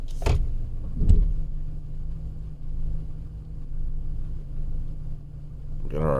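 A 2010 Chevrolet Silverado with a 5.3L V8 idles while warming up, a steady low engine rumble with a couple of brief knocks or clunks near the start and a short whine at the end.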